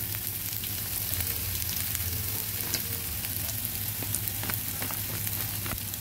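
Ground cumin, coriander and chilli powders fry in oil with ginger, garlic and onion, giving a steady close sizzle dotted with crackles and a few stirring clicks, with no talk over it.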